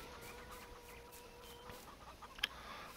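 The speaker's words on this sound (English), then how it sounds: "These chickens are loving me running through like," Soft chicken clucking in the video game Farming Simulator 19 against a steady low background hum, with a brief sharper cluck standing out near the end.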